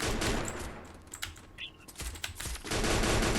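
M60 gunfire in a shooting game comes as dense, loud bursts of rapid shots at the start and end, with scattered sharper cracks in between.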